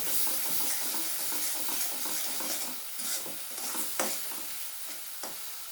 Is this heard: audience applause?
no